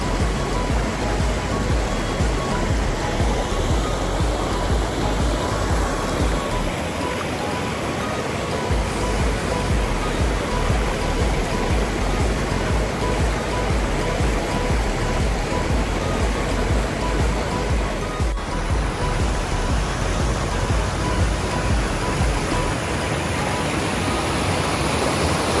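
River water rushing at Upper Chepstowe in Portland, Jamaica, a loud, dense and steady roar that holds close and unbroken for the full stretch.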